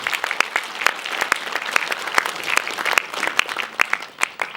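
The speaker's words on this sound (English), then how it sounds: "he ought to be given another round of applause for the good work" Audience clapping after a film screening Q&A at a film institute, a steady patter of many hands with sharper individual claps standing out, moderately loud and continuous.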